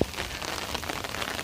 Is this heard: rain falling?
yes